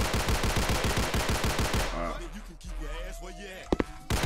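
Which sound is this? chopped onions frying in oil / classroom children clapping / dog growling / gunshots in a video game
gunshots in a video game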